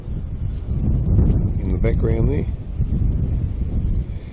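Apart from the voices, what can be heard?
strong wind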